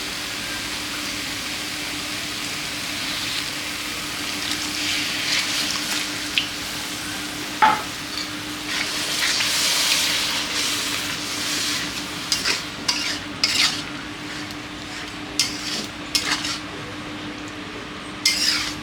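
Chicken curry with yoghurt and water bubbles and sizzles steadily in a pan, a continuous hiss broken by occasional spoon stirs and light clinks against the pot, with no one talking.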